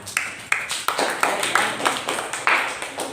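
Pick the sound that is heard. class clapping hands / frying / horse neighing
class clapping hands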